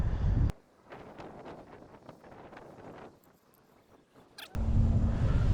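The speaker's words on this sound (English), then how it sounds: "Oh my God, it's so windy. It's actually blowing it around." Strong gusts of wind roar across the microphone outdoors beside a 2006 Lincoln Town Car Signature Limited, loud at the start and end with a quieter, rustling lull in the middle.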